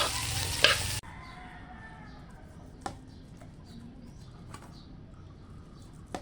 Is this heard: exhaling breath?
no